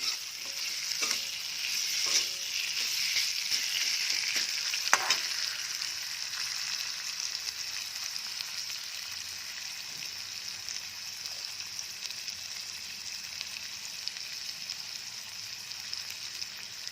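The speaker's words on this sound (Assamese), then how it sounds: "আলুকেইটা ফ্ৰাই কৰিও ল'ব পাৰে, মই আজি এনেকৈ বনাইছোঁ। ফ্ৰাই কৰি লওঁ মই।" Potatoes frying in a pan with oil for a recipe with chickpeas, white mustard and peanuts, giving a steady close sizzle throughout, with a few stirring clinks early on and no talk.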